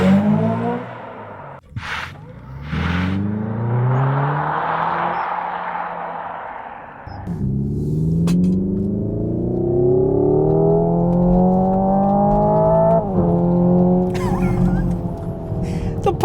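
A Hyundai Ioniq 5N electric hot hatch runs launch control, its synthetic engine note surging through rising gear sweeps with a brief whooshing gap and sharp simulated pops and bangs between shifts, loud and close.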